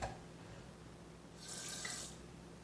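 Water runs from a newly installed Wanmai kitchen faucet into the sink, a faint steady hiss that swells briefly over low room noise.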